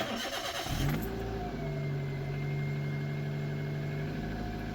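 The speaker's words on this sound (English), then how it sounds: "Then I start the car." A car engine starts after brake pad replacement, with a brief cranking burst followed by a steady close idle hum and a faint high whine, no talking.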